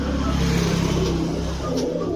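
Pigeons offered for sale, including Pakistani Teddy and Saharanpuri birds, coo in a low, continuous murmur close by, with traffic rumbling and faint voices in the background.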